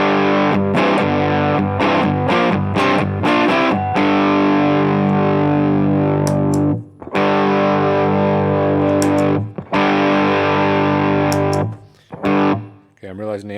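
Overdriven electric guitar through a JDM Little Steamer customized harmonic percolator pedal into a driven amp, loud sustained chords and riffs with brief gaps where notes are choked off, played close up.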